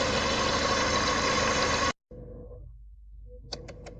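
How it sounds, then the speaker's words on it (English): A Toyota Tacoma engine idles cold, below normal operating temperature, with a steady low rumble, cuts out briefly, then resumes more quietly with a few faint clicks. "the truck has already started"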